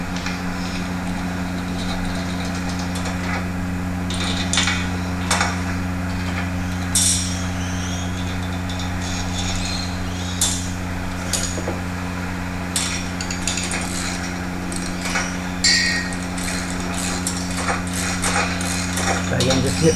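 Metal hammer blows drive parts onto the 25mm metric axle of a homemade racing mower, with irregular close taps and knocks repeating over a steady droning hum.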